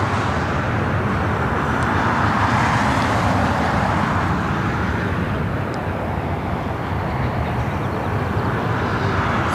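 A United Boeing Dreamliner jet passes at LAX airport, a loud, continuous broadband engine roar holding steady throughout with no voices.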